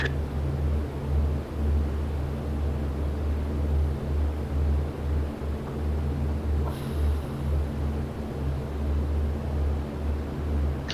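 Twin piston engines of a World War II-style plane in the IL-2 flight game drone steadily at cruise, a loud, even low rumble holding throughout with no break.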